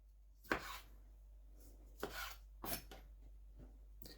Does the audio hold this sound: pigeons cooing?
no